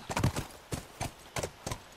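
A horse trots along in The Last of Us, its hooves striking in an uneven clip-clop of several distinct, close, fairly loud beats, with no voices present.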